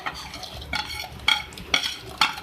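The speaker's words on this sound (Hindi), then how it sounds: "अब इसके बाद मैं इसमें ऐड करूँगी फ्राई किए हुए मेरे पास पिस्ते, बादाम और किशमिश थे" Fried pistachios, almonds and raisins go into a pan of khoya sheer khurma: a soft simmering hiss under four crisp spoon scrapes against the pan, spaced about half a second apart.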